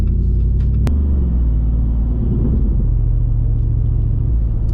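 A Jeep Wrangler 392 V8 with an H-pipe exhaust idles with a deep, raspy exhaust rumble, steady and close, with a sharp click near the start.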